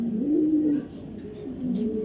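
A male blue checker racing pigeon coos close up, two low throaty rolling coos separated by a brief pause, with no other sounds.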